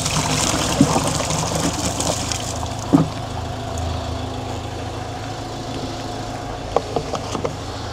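Water runs from a tap at a campervan service area in Portugal, a steady low trickle under faint engine-like hum, with a few brief clinks and knocks near the middle and end.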